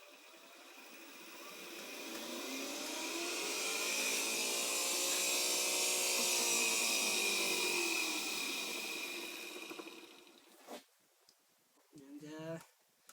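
An electric golf cart motor driven by a 500A controller whines up as the tires spin, climbing and then falling in a smooth pitch sweep over several seconds, followed by brief clicks and a short voice.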